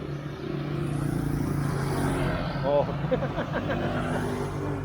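Cars pass on a busy road in a steady engine drone with a passing vehicle swelling midway, while voices talk over the traffic.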